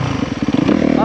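A motorcycle revving in fourth gear on a woods trail ahead of a jump, loud and close, with a pulsing engine note that rises in pitch toward the end.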